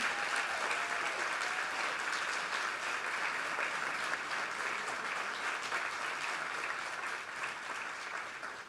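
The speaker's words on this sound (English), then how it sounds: "Give them a big round of applause." Sustained, loud applause from a large audience at an HBCU film festival, thick clapping for the cast and crew of the film Rustin that holds steady throughout and fades slightly near the end.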